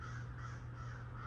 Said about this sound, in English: we'll listen to them crows